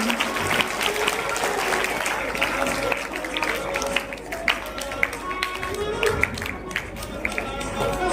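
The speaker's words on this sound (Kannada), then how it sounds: "ಚಪ್ಪಾಳೆಯ ಮುಖಾಂತರ ಕಾರ್ಯಕ್ರಮಕ್ಕೆ ಸ್ವಾಗತ ಸುಸ್ವಾಗತವನ್ನು ಬಯಸುತ್ತೇವೆ" Applause welcomes a guest at a school cultural event, scattered hand claps and crowd noise rolling on steadily at middle distance with voices mixed in.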